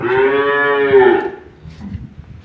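A young dairy cow with no adult teeth yet gives one loud, close moo lasting just over a second, followed by quieter shuffling sounds.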